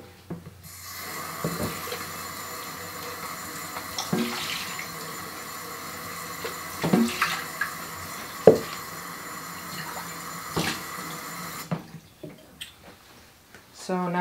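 Tap water runs steadily in a kitchen while photographic fixer is mixed for developing black and white 120 film, a continuous broadband rush with a few clinks and knocks that cuts off near the end.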